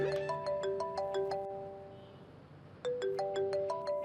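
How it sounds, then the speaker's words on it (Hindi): A mobile phone rings with an incoming call, a bright repeating melodic ringtone played in two bursts with a short pause between them, clear and close, over a quiet room. "तुम्हारी दादी का फोन आ रहा है"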